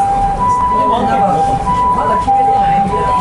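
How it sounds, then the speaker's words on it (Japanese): An ambulance siren wails nearby in a steady two-tone pattern, alternating high and low notes, over background noise and a faint voice. "救急車めっちゃ近くに出るし。"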